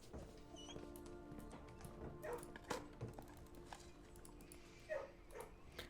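Puppies in the kennel room of the video game Blue Prince give faint small barks and yips scattered over several seconds against quiet background music.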